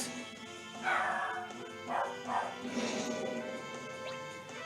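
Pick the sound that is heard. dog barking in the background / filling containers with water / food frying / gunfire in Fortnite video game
dog barking in the background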